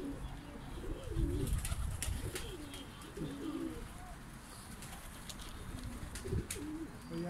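Pigeons coo repeatedly in a loft, their soft throaty calls recurring in a loose rhythm over a low room hum, with light fluttering and scratching noises between them.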